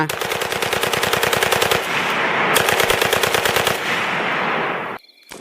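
Loud, rapid bursts of machine gun fire, rattling continuously for several seconds before cutting off abruptly.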